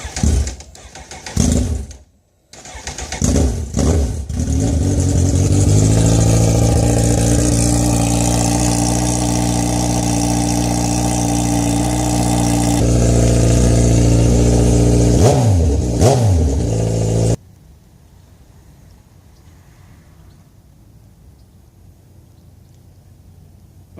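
Kawasaki Z1000 motorcycle with aftermarket eBay headers and no mufflers, started in a garage and revved hard, loud and close, with sharp blips, a long sustained high-revving roar, a few quick blips, then cut off.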